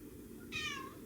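A single clear cat meow indoors, short and moderately loud against a quiet room.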